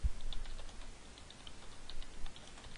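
Keys tapping on a computer keyboard while entering Wolfram Language text in Mathematica, a steady rapid patter of light clicks, close and fairly quiet, with no talking.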